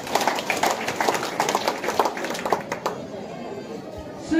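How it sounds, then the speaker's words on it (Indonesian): A group of people clap hands in an Indonesian-language setting, with rhythmic, fairly loud claps and some voices for about three seconds before the sound drops away to near quiet. "Kita tepuk tangan."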